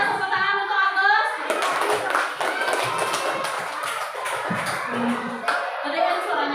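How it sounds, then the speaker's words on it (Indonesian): Classroom clapping for a student called to the front during an Indonesian school lesson, a dense patter of hands from a group of children that runs for several seconds, with voices mixed in. "tepuk tangan"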